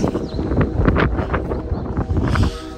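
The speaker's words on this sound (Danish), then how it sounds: "Og det blæser røv meget" Strong, gusty wind buffets the microphone during a hike in Norway, from Vossvangen towards Vola, with loud rumbling surges and a few softer rustles, and no speech.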